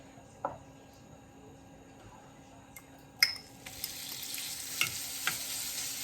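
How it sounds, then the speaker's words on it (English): Beef sautéing in a pan for shrimp and beef egg foo young, a soft steady sizzle with occasional stirring scrapes and a louder hiss swelling near the end, no voices. "We're going to saute this beef for about maybe a minute."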